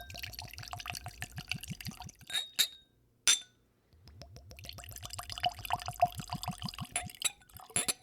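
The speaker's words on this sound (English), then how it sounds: "Pour it into our glasses." Whiskey poured from a bottle into tasting glasses during a double blind barrel tasting, a run of close glugging and splashing with light glass clinks and a brief pause midway.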